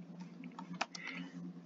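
A few quiet, close keystrokes on a computer keyboard as a short command is typed, light irregular clicks with one sharper tap partway through.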